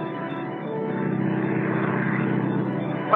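Propeller airplane droning overhead in a 1940s film scene, a steady, even engine hum that swells slightly, with no voices.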